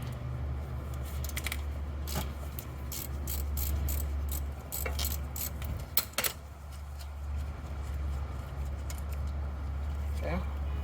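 Clicks and ratcheting from a tool loosening a bolt on the front brake caliper of a 2017-2022 Mercedes-Benz C43 AMG, scattered sharp taps over a steady low hum nearby.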